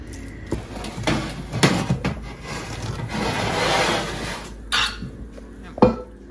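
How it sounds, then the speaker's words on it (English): Seafood topping scooped and spread onto bread for Cajun seafood bread, heard as soft rubbing and scraping strokes with a few sharper utensil knocks against a dish, close up with no talk. "you just scoop it out and you just spread it on the bread"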